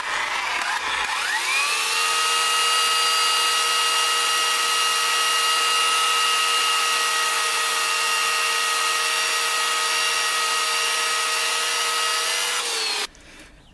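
A chainsaw with a freshly refitted, lubricated blade runs at steady high revs for about twelve seconds while cutting logs, loud and close, starting up quickly and cutting off abruptly near the end.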